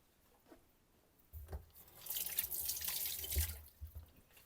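Hands being washed under a running kitchen tap, a steady close splash of water that swells and churns for a few seconds with brief drips and rinsing bursts, no talking.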